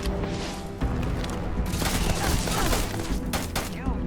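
Dense, rapid bursts of gunfire in the video game Starfield during combat, loud and continuous with booming impacts layered throughout.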